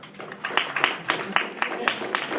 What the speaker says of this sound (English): I need you to clap your hands.